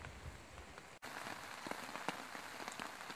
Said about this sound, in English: It's not raining quite as bad.